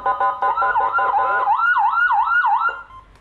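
A Whelen HHS 200-watt siren module is tested, first sounding a rapid pulsing yelp and then switching to a slower, regular wailing sweep that rises and falls about five times before cutting off, loud and close.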